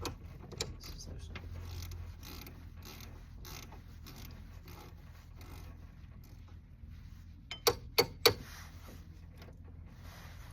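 A ratchet wrench loosens a bolt on a Mazda RX-7 turbo in a quiet garage, with soft mechanical clicking and creaks followed by three sharp, louder ratchet snaps near the end.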